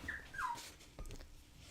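A dog in a hallway lets out two short, high whimpers followed by faint scuffling, quiet and somewhat distant in an otherwise still indoor room.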